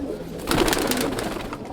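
A Madrasi pigeon breeding pair coos close by, soft throaty rolling calls filling a brief moment with no voices over them.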